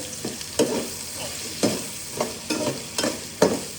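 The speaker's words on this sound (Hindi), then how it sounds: "प्याज ऐड करेंगे, इसको करते हैं अच्छे से फ्राई" Onions fry in a pan with a steady sizzle, punctuated by regular, close scraping strokes of a spoon stirring them.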